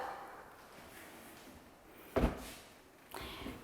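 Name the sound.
door opening to a dressing room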